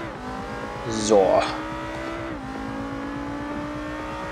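A Mitsubishi Lancer Evo 8 driven in the racing game Forza Horizon 2, its engine droning steadily with a brief rise in revs and a tire squeal, while someone speaks briefly over it.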